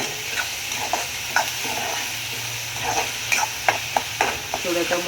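Egg rice cooking in a pan, a soft steady sizzle with intermittent scraping and stirring clicks from a spatula, fairly quiet and close.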